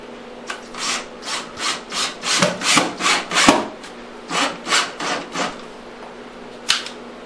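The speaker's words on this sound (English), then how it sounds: "I'm going to take some wood screws, I'll screw them right down through them to the plywood." Rhythmic rasping strokes, about a dozen close, loud grinding passes in a steady cadence with a short pause partway, as wood screws are driven down into plywood during a tile wet-setting job.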